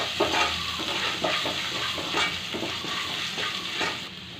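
Chopped garlic and ginger fry in hot oil in a pan, a dense steady sizzle with repeated scraping stirs of a spoon, close and continuous.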